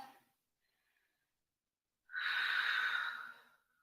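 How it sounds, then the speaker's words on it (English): One slow, deep breath drawn in and released during a gentle morning yoga session, a soft airy exhale close to the listener after a pause of near silence. "Take one more deep breath."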